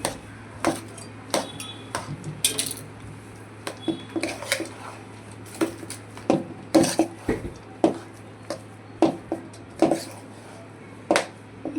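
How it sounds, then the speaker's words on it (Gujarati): A spoon stirs dabeli spice masala in a bowl, giving repeated light clinks and scrapes at an uneven rhythm over a quiet kitchen background. "આવી રીતે મિક્સ કરી લેશું મસાલો"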